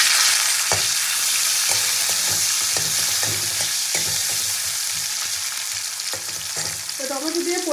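Chopped tomato dropped into hot oil with whole cumin and a dried chilli, a loud close sizzle with repeated spatula taps and scrapes against the pan, steady throughout.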